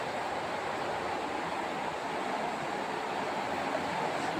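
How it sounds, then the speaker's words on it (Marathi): Heavy monsoon rain pours down around a home whose kitchen is soaked and filling with water, a dense, steady rushing hiss that holds at the same loudness throughout with no break. "खूपच हाल करतोय पाऊस."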